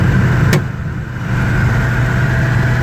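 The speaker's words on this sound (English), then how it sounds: "Letting the car roll down the road basically on its own." A 1967 Pontiac GTO with a four-speed rolls steadily down the road, its engine holding a low, even drone beneath constant road and tire rumble, with a brief sharp click early on.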